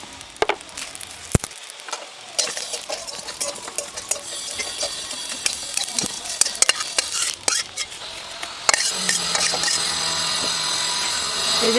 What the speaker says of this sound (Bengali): সেইগুলো এবার সবগুলো একসঙ্গেই কড়াই দিয়ে একটু হালকা করে ভেজে নেব